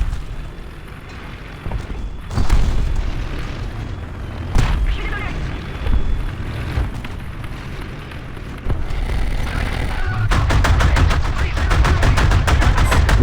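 Tank cannon and machine gun fire in War Thunder Mobile, with repeated booming shots and rapid bursts over rumbling battle noise, loud and close, a voice talking underneath.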